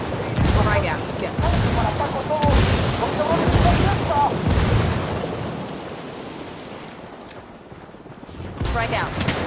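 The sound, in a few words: grenade explosion and gunfire in video game Ghost Recon Wildlands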